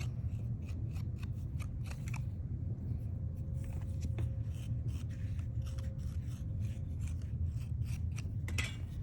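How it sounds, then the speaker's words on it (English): A serrated scoring rib scratches across wet clay slabs in a quick series of close, rasping strokes over a low background hum. "we're gonna score those together to make our base. I have my serrated scoring rib here."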